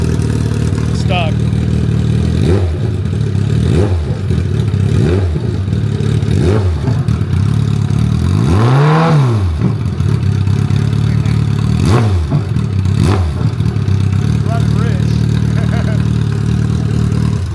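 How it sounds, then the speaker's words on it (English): A rebuilt Kawasaki ZX-14r engine revs repeatedly with its throttle hanging up, rising and falling in loud, close bursts, with one long sustained swell midway, under steady shop background noise. "So the throttle got hung up right there, as you could hear."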